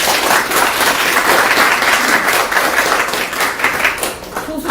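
Audience applause at a Korean civic gathering, many hands clapping in a dense, steady wash that stays loud throughout and eases slightly near the end.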